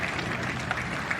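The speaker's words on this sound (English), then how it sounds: "taking the applause of the crowd as they try to finish off the race" Crowd applause at the Henley regatta as City of Oxford and Norwich rowing crews near the finish line, a steady distant wash of clapping in open air.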